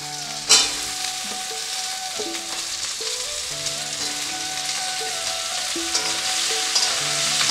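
Potatoes fry in hot oil in a pan with chili for a pabda fish curry, a loud, even crackling sizzle with a sharp burst at the start as they go in, and no speech.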